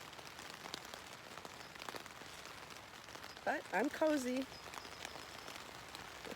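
Rain patters steadily on a Big Agnes Tiger Wall tent, soft and close, while a person speaks briefly and quietly partway through.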